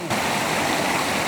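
A mountain headwater stream in a rocky gorge rushes loudly and close, a dense continuous roar of flowing water over rocks, alone and without talk for the short stretch.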